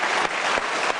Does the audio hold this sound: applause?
yes